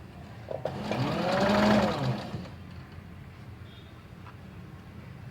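A sewing machine stitches the collar of a kurti, whirring up to a loud, rising run in a single burst and then slowing and fading into quiet room hum.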